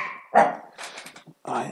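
A dog barks in a few short, loud bursts close by, with brief gaps between them and a voice speaking around the barks.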